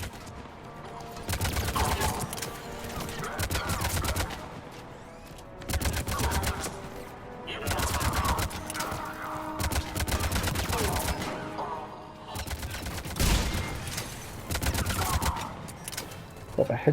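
Gunfire in the video game Mass Effect 3: repeated loud bursts of rapid automatic fire, each lasting a couple of seconds with short pauses between, forming a dense, continuous barrage.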